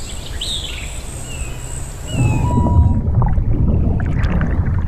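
Whale calls from the VR game Whale Watch, an undersea ambient scene: rising and falling tonal cries drift over a steady hiss, then a deep rumbling swell of water rises and lingers to the end.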